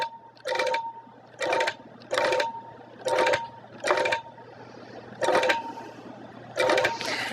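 A sewing machine stitches couched thread back and forth in short bursts, about seven runs of whirring needle separated by brief pauses, close and clear.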